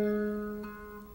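A single plucked half-diminished seventh chord on guitar rings out and slowly fades, one string dropping away early as the rest sustain.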